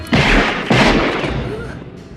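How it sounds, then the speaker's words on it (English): Two heavy gunshot booms ring out in a Child's Play killer-doll movie scene, each followed by a long, dense rumbling decay that fills the short stretch. "Totally run towards the sound of gunfire."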